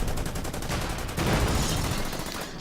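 Panzer IV tank guns firing on a T-34 in the Order of Battle war game at Kharkov 1943, a loud, dense run of rapid cracking shots and blasts that continues without pause.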